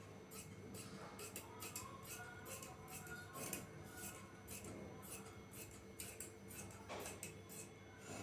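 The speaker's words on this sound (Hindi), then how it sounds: "अभी एक ही पट्टी कट रही है।" Scissors snip through a four-inch fabric strip while cutting out a palazzo, a quick, rhythmic series of crisp, close blade closures with no voices.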